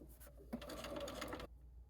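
A sewing machine stitching half-square triangle quilt pieces runs in a short, close burst of rapid, even needle whirring lasting about a second before stopping, fairly quiet, with no talking.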